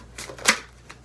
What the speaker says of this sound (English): enjoy the visual of me shuffling cards